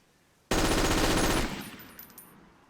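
A light machine gun fired from its deployed bipod in Forgotten Hope 2 lets out a single loud, rapid burst of about a second, followed by a fading echo tail.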